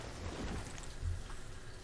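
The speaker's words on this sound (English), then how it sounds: "And it's raining, and it is pouring." Rain pouring in the video game Banished, a soft steady hiss of rainfall with a low rumble swelling briefly, faint and alone.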